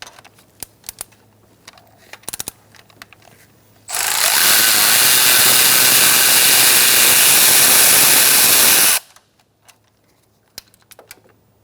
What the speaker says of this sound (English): Using an 8mm socket, we're going to take out this bolt.